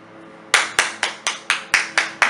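Eight sharp hand claps, loud and close, in a steady rhythm of about three per second, preceded by a brief stretch of quiet room tone.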